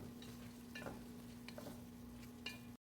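Pansit miki guisado, noodles stirred in a pan, gives faint soft scrapes and tosses at irregular intervals over a quiet, steady background hum, with no voices.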